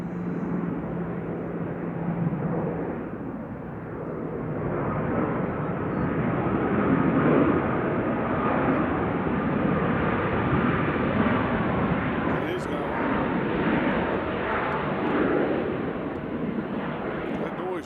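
An airliner passing during planespotting at Nashville International Airport, a loud, sustained jet roar swelling and holding over many seconds, with wind buffeting and someone talking over it.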